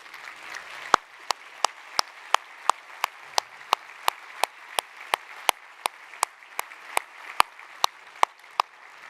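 An audience applauds an architect's team at a public design unveiling with the mayor, though only a few people clap: sparse, sharp individual claps in a steady rhythm over a murmuring room.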